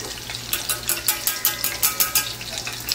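Breaded pork cutlet (tonkatsu) sizzles in hot oil under a steady crackle, with rhythmic bursts of louder spitting about twice a second.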